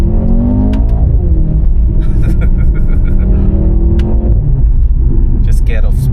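A Mercedes-AMG C43 engine and exhaust rumble loudly from inside the car while driving, with the revs rising and falling and a few sharp crackles, as someone talks over the noise.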